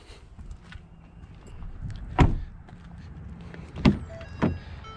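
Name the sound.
Ford F-450 power front glass sliding back into track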